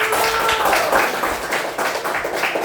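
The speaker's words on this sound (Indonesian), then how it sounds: "Tepuk tangan dulu" Children clap their hands together in a lively, close burst of scattered claps lasting a couple of seconds, with little talk.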